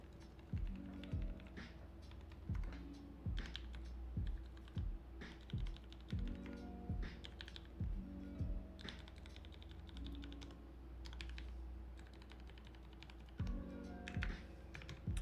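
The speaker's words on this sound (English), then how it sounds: "we gotta make sure that all the keys work first." Keys being tested one after another on a newly built Noxary Vulcan Pro mechanical keyboard, close and crisp, in short bursts of clacky typing separated by brief pauses.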